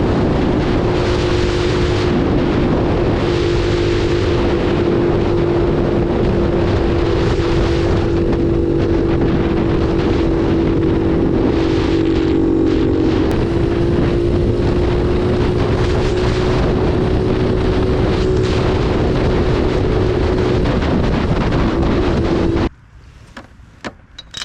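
A Honda C90 motorcycle with a swapped, genuine carburettor is ridden flat out, giving a loud, steady engine drone with heavy wind rush that runs unbroken and then cuts off abruptly near the end.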